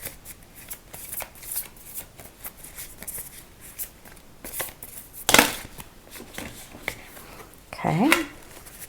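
A deck of tarot cards being shuffled up close in quick riffling bursts, with a sharp snap midway and a brief voice near the end.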